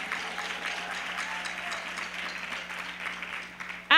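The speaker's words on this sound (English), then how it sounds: "Give them a round of applause one more time." An audience claps steadily at a music academy recital, sustained applause from a crowd in a hall before a sudden loud burst at the very end.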